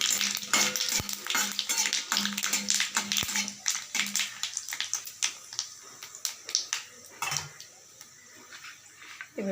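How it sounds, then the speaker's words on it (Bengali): Cumin seeds tempering in hot oil while cooking rajma, quick crackling pops and sharp spatula taps over a soft sizzle, dense at first and thinning out later, close, with no talking. "বেশি না, খুব অল্প একটু জিরে ফোড়ন দিলাম।"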